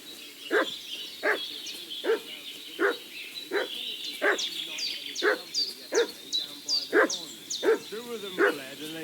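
A dog barks repeatedly and fussily in a medieval village in Kingdom Come Deliverance II, steady evenly spaced barks at moderate distance with a few whimpers and yips, birds chirping faintly behind.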